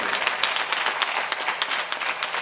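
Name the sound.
audience applauding at a kirtan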